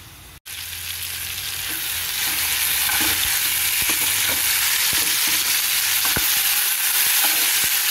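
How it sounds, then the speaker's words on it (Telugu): Ridge gourd pieces frying in a pan give a steady, loud, hissing sizzle that builds over the first seconds and then holds, with a few faint taps and crackles. "ముక్కలు బాగా వేగిపోవాలండి"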